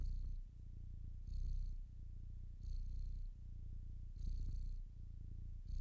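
A cat purrs in the video game Stray, a deep continuous rumble that pulses in a steady rhythm, close up, with faint higher tones repeating in the background.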